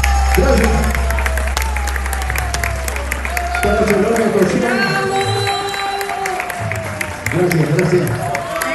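Audience applause and crowd noise at a concert at an Argentine festival in the USA, sustained clapping and cheering under someone speaking over a loudspeaker, with fading musical tones.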